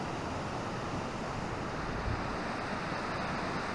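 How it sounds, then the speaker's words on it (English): The Cline River rushes past a backcountry campsite, a loud, steady broadband roar of fast water with constant wind-like hiss and no pauses. "The riverbank may wash into the river tonight. It's making a lot of noise"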